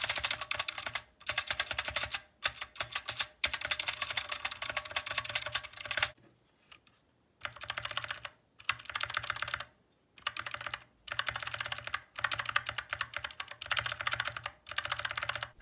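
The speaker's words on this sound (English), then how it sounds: "Now here's a quick before and after with the spacebar." Repeated presses of a mechanical keyboard spacebar, first with its stabilizer unlubricated and then after greasing it with dielectric grease, heard in close, sharp bursts of clacks separated by short pauses, with no voices.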